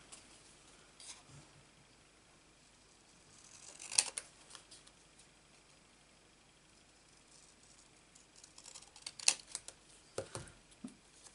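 Scissors cutting around a small round paper card for a craft sentiment, with a few faint, close snips clustered in two brief bursts over quiet background.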